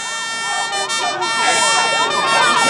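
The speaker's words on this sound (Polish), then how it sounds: "Policja, proszę przepuścić karetkę." A wailing ambulance siren rises and falls continuously, loud and close, with a steady high whine behind it, during a street riot at a city intersection in Warsaw.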